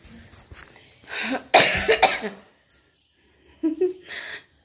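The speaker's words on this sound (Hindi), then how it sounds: "खांसी मेरा पीछा छोड़ने वाला नहीं है।" A woman coughs hard at close range while cooking, with a cluster of harsh, rasping coughs in a rapid run, a short quiet gap, then a second shorter burst of two or three coughs, plus faint breathy throat sounds around them.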